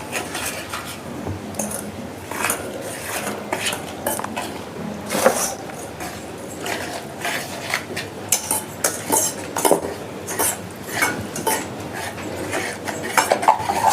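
Honey cake batter being mixed in a bowl, with a utensil repeatedly clinking and scraping against the dish in an irregular, close rhythm that carries on throughout.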